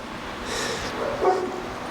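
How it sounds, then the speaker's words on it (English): A dog gives a few short barks and yips at moderate distance, with faint background noise and no talking. "stop barking"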